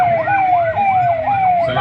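An ambulance siren from a free-service government ambulance at the Republic Day parade in Lucknow, Uttar Pradesh, wailing in quick repeated rising-falling sweeps, loud and steady over crowd and road noise.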